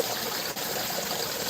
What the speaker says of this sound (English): It basically just splashes every now and then.